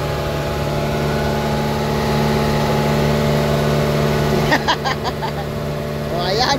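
A boat engine runs steadily throughout, a continuous mid-pitched drone with a few clattering knocks near the end.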